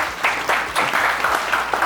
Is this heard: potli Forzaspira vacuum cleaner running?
no